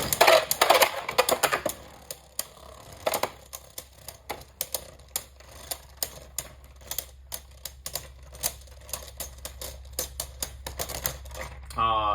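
Union Achilles and Wizard Fafnir Beyblade tops clash in a stadium, starting with a loud burst of rattling impacts, then a long run of quick sharp clicks and ticks as they spin and collide, with faint voices early on.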